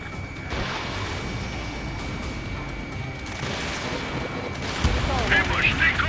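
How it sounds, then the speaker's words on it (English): Ace Combat 7 jet combat: a dense roar of engine and explosion rumble runs throughout, swelling near the end as a missile launches, with radio chatter mixed underneath. "Missile away."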